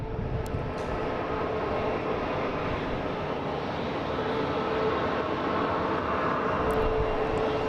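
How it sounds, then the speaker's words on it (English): United Airlines Boeing 737 MAX 8 arriving from Newark at Boston Logan: a sustained, loud jet engine roar with a steady whine, holding even throughout with no voices. "We have United Airlines coming in from Newark."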